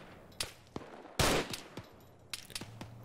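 Sparse gunshots in Arma 3 during a firefight, a few sharp isolated cracks and one louder, longer blast, with quiet gaps between them and no talk.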